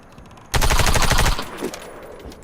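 Warface video game automatic weapon fires a rapid burst of shots at a target, close and loud for about a second, followed by a short mechanical clatter.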